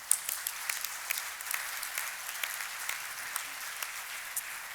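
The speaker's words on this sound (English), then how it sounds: "please join me in giving them a round of applause for making that possible" Steady audience applause fills a conference hall at the NetHope Global Summit 2019, continuous crisp clapping at moderate distance with no break throughout.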